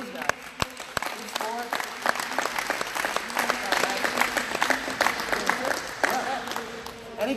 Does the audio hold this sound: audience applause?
yes